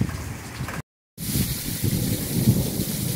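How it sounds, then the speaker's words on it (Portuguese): Steady, loud rain pours during a thunderstorm in the Brazilian sertão, with a low rumbling underneath and a brief dropout to silence; no voices. "Chove nesse momento em Boa Vista, muito trovão ao redor aqui"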